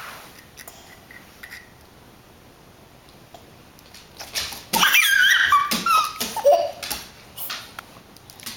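A dog makes excited whimpering, yelping sounds in short bursts close by, after a quiet stretch, with a child's laughter mixed in.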